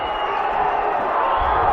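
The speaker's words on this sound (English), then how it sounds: "the crowd are going berserk here" A rugby league crowd at an Oldham v Sharlston Challenge Cup tie roars in a continuous loud swell of cheering and shouting, brief and unbroken.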